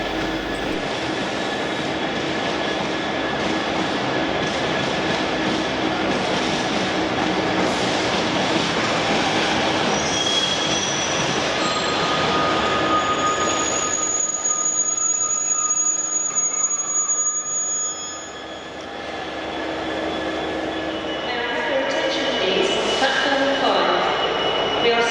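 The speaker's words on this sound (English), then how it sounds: "now I must catch a train back to Carlisle" Loud steady rumble of a moving train on a diverted LNER route, continuous wheel and carriage noise with faint tonal whines, dipping briefly before building again; speech is also present.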